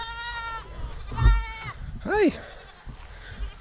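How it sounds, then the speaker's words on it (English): Goats bleat close by, a few wavering calls in a row, while a person speaks a brief greeting between them. "Get these goats out here in the field,"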